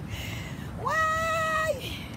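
A single cat meow close by, a clear rising then falling cry of about one second over faint outdoor background noise.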